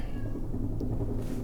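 A domestic cat meows faintly in a room over a steady low background hum, one short call standing out briefly.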